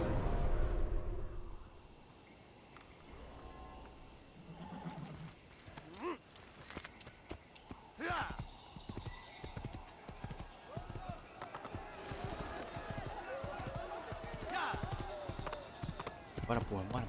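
Hoofbeats of a horse galloping in Assassin's Creed, a steady clip-clop rhythm that runs through the scene beneath someone talking and urging the horse on.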